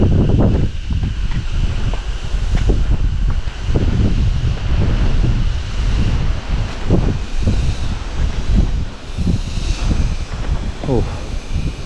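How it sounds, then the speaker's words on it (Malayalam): Strong wind buffets a rocky hilltop viewpoint near Kurishumala rock, roaring and gusting into the microphone while a person talks over it. "നല്ല കാറ്റാണ്, നല്ല കാറ്റ്"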